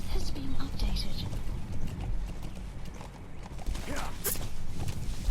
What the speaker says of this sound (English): It's been a while since I've been at the helm of D-Horse.